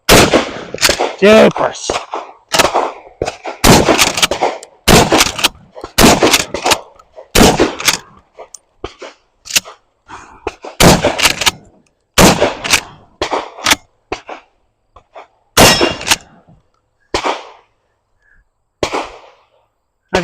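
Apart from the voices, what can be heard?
Mossberg Maverick 88 shotgun firing slugs, hitting steel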